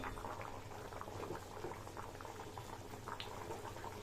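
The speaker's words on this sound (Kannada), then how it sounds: "ಒಂದು ಐದು ನಿಮಿಷ ಕುದೀಲಿ ನೋಡಿ" Drumstick sambar bubbles at a steady boil in a cooking pot, a continuous dense blubbering and popping that stays fairly quiet and even throughout, with no voices.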